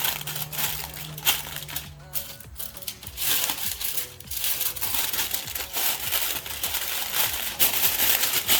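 Close crinkling and crumpling of aluminium foil being folded and pressed into a packet around a chicken for oven smoking, in irregular bursts with brief pauses.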